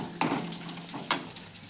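Green chillies spit in tempering oil for a brinjal roti chutney, giving a close, continuous hissing sizzle with two sharp stirring clinks.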